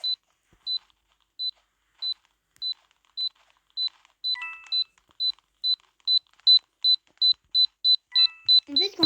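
Bomb beeping in a murder-mystery video game, a sharp high electronic beep repeating at a steady pulse that gradually speeds up, with a few brief extra game tones and a sudden noisy burst at the very end.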